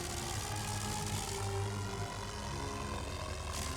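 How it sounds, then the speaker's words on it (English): A World War I scout plane drones steadily overhead in a Western Front war game, its propeller engine humming continuously at moderate volume throughout with no voices. "Oh, that is the scout plane."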